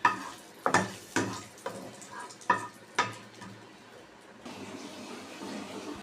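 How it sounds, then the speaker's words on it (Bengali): Cardamom, cinnamon and a bay leaf go into a pan: several sharp clattering knocks come first, then a soft, even sizzle settles in and continues to the end. "এলাচ আর দারচিনি দিলাম, এক টুকরো তেজপাতা।"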